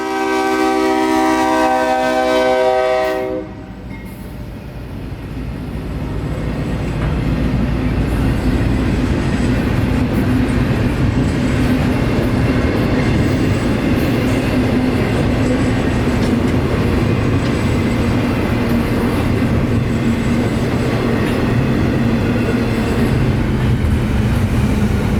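QO4629, a nightly intermodal freight train carrying UPS traffic, passes at Wildwood in the evening. A loud horn blast opens, then a continuous heavy rumble and rolling clatter of wagons fills the rest, close and sustained.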